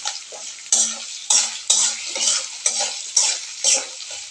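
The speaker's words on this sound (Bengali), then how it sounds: "তো এখানে দিয়ে দিচ্ছি পেঁয়াজ কুচি, পেঁয়াজগুলো সুন্দর করে ভেজে নিতে হবে।" Chopped onions frying in a pan for bottle gourd greens, with a steady sizzle broken by repeated scraping stirs of a utensil against the pan, close and clear, about one stroke every half second.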